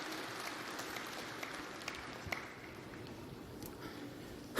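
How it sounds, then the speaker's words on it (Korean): An audience applauds at a Korean religious address, a steady wash of clapping that holds evenly for several seconds without speech. "박수해요."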